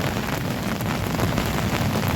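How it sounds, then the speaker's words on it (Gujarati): Steady rain with thunder pouring down in a village in Devbhumi Dwarka district, a dense, constant hiss with low rumble underneath, no voices, continuous throughout. "અને હજી ગાજવીજ સાથે ફૂલ ચાલુ છે હજી તો વરસાદ ચાલુ છે"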